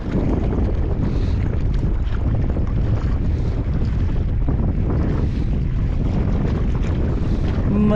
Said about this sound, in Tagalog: Lakas na hangin ah.